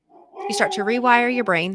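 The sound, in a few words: dog barking in the background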